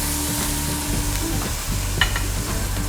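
Pork chop sizzling in a grill pan just after being flipped, a steady broadband fry hiss with a few soft clinks and scrapes, close and fairly loud with no talking.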